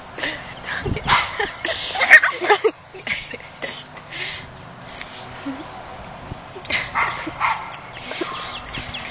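Puggle and shih-tzu puppies bark and yip in scattered bursts while they play-fight, loud and close, clustered near the start and again near the end, with some mixed noise between.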